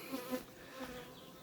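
A faint, steady buzzing of honey bees droning around a hive, soft and continuous without voices.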